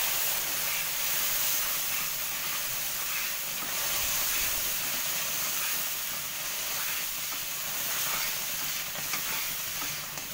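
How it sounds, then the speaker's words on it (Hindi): Sugar syrup poured into hot ghee and wheat flour halwa in a kadai hisses and sizzles in a steady, continuous rush, with faint stirring underneath. "अब मैं इसमें जो चाशनी है वो डाल दूंगी। बिल्कुल स्लो करके डालिए आप,"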